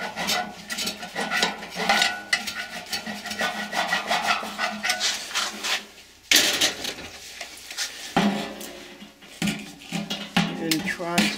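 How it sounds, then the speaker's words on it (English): A hand file scrapes a burr off a metal part of a squirrel cage motor, close and loud in repeated uneven rasping strokes with brief pauses between them. "Clean some of the burr off here."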